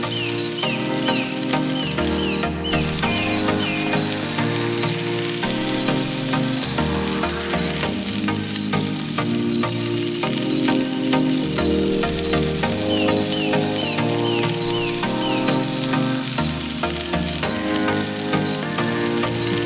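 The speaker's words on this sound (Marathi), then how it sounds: "आणि स्पायसी डिशा उपरांत आमी काळुंदरां, मुड्डेश्यो फ्राय करपाक घेतलेली आसा." Ladyfish, or muddoshi, sizzles steadily as it fries in a pan, a constant crackling hiss layered under bright, tonal music that runs throughout.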